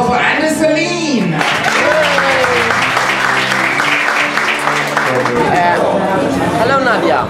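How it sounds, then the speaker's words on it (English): A stand-up comedy audience on tour breaks into loud applause and cheering for a comedian being introduced. Dense clapping fills the room, with a host's voice and crowd chatter mixed in. "Please have a round of applause for Anders Celin!"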